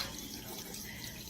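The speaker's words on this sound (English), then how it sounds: "This supposed to be clean, drinkable water." Tap water runs from a faucet into a sink in Flint, Michigan, a steady close hiss of flowing water with no pauses.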